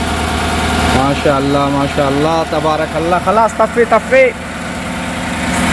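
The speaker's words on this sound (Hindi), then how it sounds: "वाह, इंजन स्टार्ट हो गया भाई परफेक्टली हमारा।" A GMC car engine with a valve lifter fault and misfiring cylinders idles steadily just after starting, a low continuous rumble under someone talking close by.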